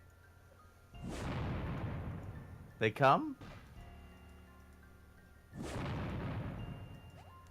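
Cannon enemies fire in the Save the Light video game: two deep, booming blasts spaced several seconds apart, each rolling off slowly, with a short spoken line between them.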